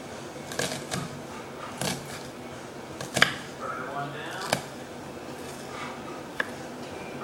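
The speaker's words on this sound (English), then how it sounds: "It's okay if they're a little big because you can just go over with a knife." Knife dicing onions on a cutting board while making guacamole, a few sharp chopping taps at irregular intervals under a steady room background.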